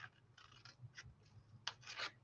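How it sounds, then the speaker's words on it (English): Paper being trimmed with scissors for a papercraft project, a series of soft, close snipping and rustling cuts, quiet and irregular, with no voices. "I'm actually going to trim right above the quote."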